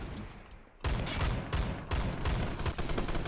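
A Saiga shotgun firing slugs in the Roblox shooter Phantom Forces: a quiet lead-in, then a loud sharp blast and several more heavy shots in quick succession, close and booming.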